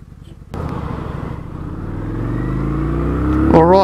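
A Kawasaki Vulcan 900 Classic motorcycle pulls away and accelerates, its engine note climbing steadily in pitch and growing louder across the run, with a near, continuous drone and no talk.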